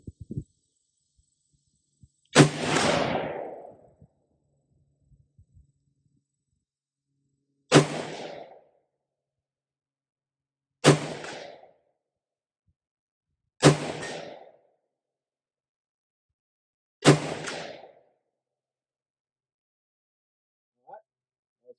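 A 5.56 mid-length rifle with a 13.7-inch forged barrel fires five separate sharp shots a few seconds apart at 50 yards, each one loud and short with a brief ringing tail, and silence between them.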